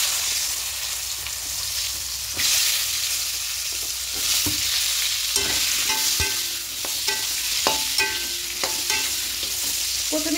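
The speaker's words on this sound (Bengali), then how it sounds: "প্রথমে পটলগুলো একটু লাল লাল করে ভেজে দেবো, লাল করে ভাজা ভাজা করে তুলে নেব।" Pointed gourd (potol) with turmeric fries in hot oil, a close, steady sizzle broken by repeated scraping and clinking of a spatula as the pieces are stirred, with no talking.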